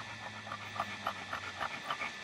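Heavy, rapid panting breaths pulse in a steady, even rhythm close by, with roughly four quick huffs per second and no talking over them.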